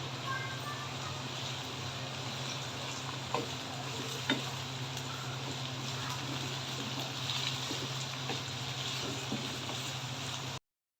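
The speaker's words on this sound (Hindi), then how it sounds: "लहसुन अदरक का पेस्ट अच्छे से फ्राई हो चुका है" Garlic ginger paste fries in a pan with a steady, close sizzle, broken by occasional stirring clinks and taps, all without talk.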